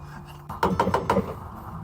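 A series of about five quick knocks on a door, sharp and close, clustered in the middle over a quiet background.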